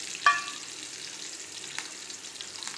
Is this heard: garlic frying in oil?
yes